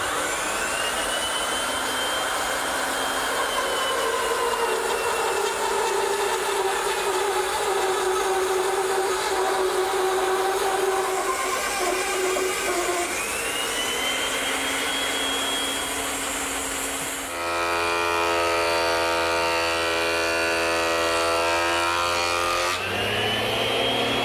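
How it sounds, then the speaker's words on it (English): A bandsaw fitted with a 1-inch blade resaws a board along an auxiliary fence, a steady loud whining roar with shifting pitch as the cut progresses, changing tone near the end. "To resaw it, I'm going to use the bandsaw."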